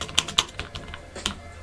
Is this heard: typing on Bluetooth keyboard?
yes